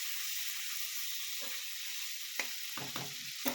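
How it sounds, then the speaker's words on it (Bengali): Prawns fry with cumin seeds in a wok, giving a soft, steady hiss of sizzling oil, with a few sharper utensil scrapes and taps toward the end. "চিংড়ি মাছকে একটু ভাজা ভাজা করে নেব।"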